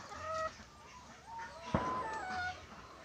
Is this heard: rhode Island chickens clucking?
yes